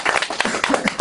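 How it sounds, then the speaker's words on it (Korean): Audience at a Korean lecture event breaks into brief, loud clapping at close range, a burst of scattered individual claps over about a second. "박수를 청하겠습니다"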